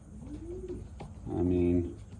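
A racing pigeon in its loft gives a soft rising coo, then a longer throaty coo, close and clear, with faint rustling in the background.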